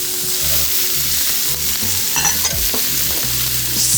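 Chopped onions and carrots for a short ribs mirepoix sizzle and crackle in a hot pan, a close and loud frying hiss with occasional stirring scrapes, no talking.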